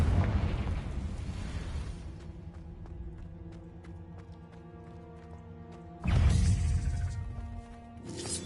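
A Confringo fire spell from Hogwarts Legacy bursts with a loud blast at the start, fades into a low rumble with ringing tones, then a second heavy explosion hits around the sixth second.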